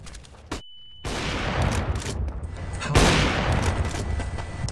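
Gunfire in Counter-Strike: Global Offensive comes as a dense burst of shots followed by a second loud volley, close and heavy.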